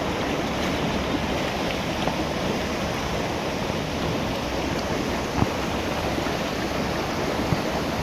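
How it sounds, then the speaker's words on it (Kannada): Water falling at a roadside spot between Madikeri and Mangaluru makes a continuous, dense rushing roar, steady and fairly loud, with no voices. "ಹಿಂದಕ್ಕೆ ನೀರು ಬೀಳ್ತದೆ ಅಲ್ಲೋದು."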